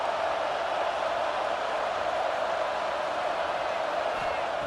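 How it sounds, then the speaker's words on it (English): Stadium crowd in College Football 26 video game during an Alabama vs Oklahoma playoff game, a dense continuous roar of cheering that stays loud and even throughout. "And here comes the noise. This crowd is trying to inspire this defense to make a big red zone stop."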